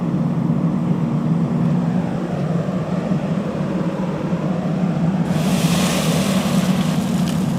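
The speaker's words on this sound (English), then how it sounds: "just a very small amount of water inside that grease fire creates a significant amount of fire" A grease fire in a kitchen demonstration flares up violently as a small amount of water hits the hot oil, a loud, steady roaring rush that swells into a brighter, hissing burst near the end, with no talking.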